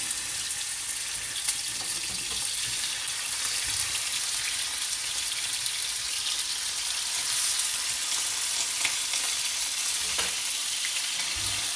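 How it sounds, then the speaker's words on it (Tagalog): Fish frying in hot oil in a pan, a steady dense sizzle with faint crackles running throughout, close and continuous with no talking. "Yung kawali, yung nakita na. So, mainit na yung ano. Sige. Ayan, ipiprito na natin."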